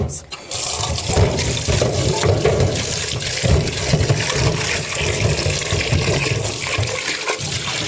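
Running tap water splashing while items are washed at a sink, a close, steady gush with some clatter, under a person's talking.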